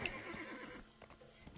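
A horse in the video game Black Desert Online lets out a brief, clear whinny, fairly faint, followed by a few soft hoof clops with no talking.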